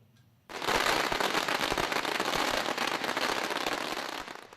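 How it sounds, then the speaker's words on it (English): A dense, continuous barrage of firecrackers pops and crackles loudly after a brief quiet start, rapid bangs overlapping for several seconds before tapering, marking Chinese New Year. "The sound of firecrackers marked the start of the Year of the Sheep."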